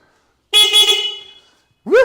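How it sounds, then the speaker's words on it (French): A 2025 Dualtron Victor Limited electric scooter sounds its horn close by: one loud, bright honk of about a second, then silence, then a second short blast beginning. "Là, le klaxon."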